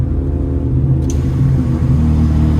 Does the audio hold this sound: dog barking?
no